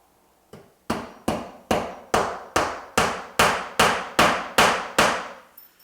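Hammer driving nails into a cladding starter course along a wall, eleven sharp ringing strikes at an even one-per-half-second rhythm, close and loud with short decaying rings, no voices.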